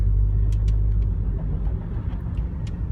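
Heavy road traffic rumbles past steadily with deep, low engine noise and a constant drone, while occasional brief higher whooshes and clicks mark individual vehicles nearby.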